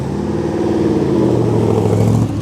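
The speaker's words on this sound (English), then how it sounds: "V8, another Corvette Stingray coming." A deep Corvette Stingray V8 engine rumbles steadily and loudly as the car passes close by at a classic car show, its throaty note rising slightly.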